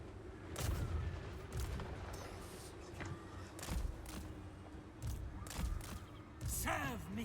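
Handgunners fire in Total War: Warhammer 3, a battle scene with scattered gunshots and booming volleys cracking at irregular intervals over a busy background, with voice lines mixed in.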